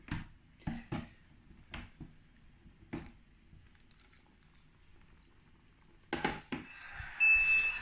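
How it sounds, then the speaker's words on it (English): A beeping 5-minute timer on a Grainfather Connect brewing system goes off near the end of a home brew day, after a series of sharp clanks and taps from stirring and adding hops. "So the 5-minute timer is going off."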